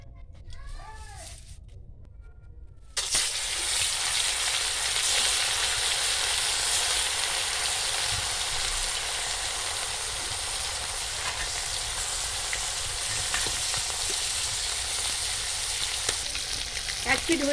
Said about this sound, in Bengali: মাছ ভাজার জন্য কড়াইতে দিয়ে দেবো সাদা তেল।